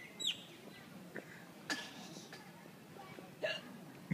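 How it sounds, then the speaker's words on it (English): Hiccups from someone nearby, a few sharp isolated hics spaced over several seconds, fairly faint against quiet room noise. "Your hiccups are still there."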